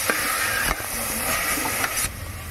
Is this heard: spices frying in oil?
yes